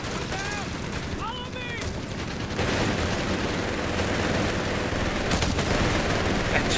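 MG42 machine gun fire in the strategy game Company of Heroes 3, a dense rattling roar of automatic shots that starts after a few thin whistling game effects and keeps going steadily to the end.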